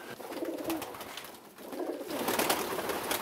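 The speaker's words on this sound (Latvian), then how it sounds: "Viņš ir dekoratīvs putns, viņš jau nav lidotājs" A pigeon-like decorative bird that cannot fly, cooing softly amid steady wind or outdoor rustle and noise, low repeated coo notes partly masked.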